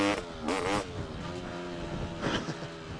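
Two-stroke dirt bike engine revving, a couple of sharp rising blips of throttle over a buzzing idle, fairly close and moderately loud.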